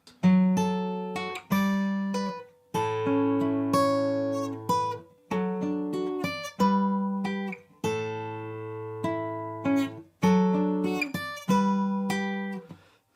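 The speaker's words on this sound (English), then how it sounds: "The next line sounds like this." A guitar plays a line of The Last of Us theme alone: a slow, clear melody of plucked notes and ringing chords in separate phrases, each note sustaining and fading before the next.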